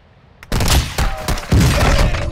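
Close, loud gunfire from Call of Duty: Modern Warfare II breaks in after a quiet start, with several sharp shots and bursts in quick, uneven succession.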